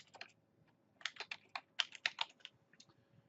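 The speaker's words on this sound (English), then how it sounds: "when I type something in" Typing on a computer keyboard into a spreadsheet, a quick irregular run of light clicky keystrokes in bursts, close and fairly quiet with no talk over them.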